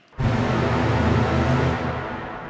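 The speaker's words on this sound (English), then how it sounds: "running that supersaw in this fully wet reverb," A wide, sustained supersaw synth chord swells in abruptly and hangs as a dense wash of fully wet, 7.5-second reverb, dark and smeared, fading slightly toward the end.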